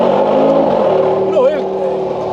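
A Mercedes G63 AMG SUV's 577-horsepower engine drones steadily as it pulls the heavy vehicle along, a low, even hum heard under a voice.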